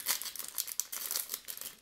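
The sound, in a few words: opening a crinkly plastic toy blind bag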